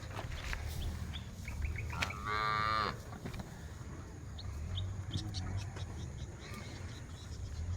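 Cattle moo from a herd kept near a forest, one drawn-out call standing out clearly around mid-clip over steady outdoor ambience, with faint bird chirps scattered throughout.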